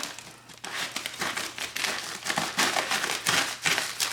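Crinkly rustling and crackling of a planner's packaging being handled and cut open with scissors, with short bursts of tearing and crumpling in an irregular rhythm, close up.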